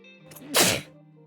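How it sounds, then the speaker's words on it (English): One loud, close sneeze erupts abruptly over a low steady hum, a brief forceful burst that fades quickly. "I'm about to sneeze."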